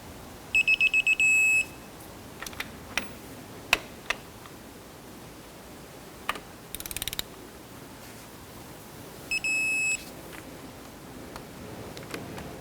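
A torque wrench tightens the caliper bracket bolts on a 2006–2014 Honda Ridgeline's front brakes to 101 foot-pounds, giving two short bursts of high pulsed beeping among scattered light metallic clicks and ticks over a quiet background.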